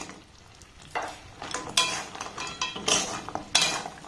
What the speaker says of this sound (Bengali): এর মধ্যে দিয়ে কন্টিনিউ নাড়াচাড়া করব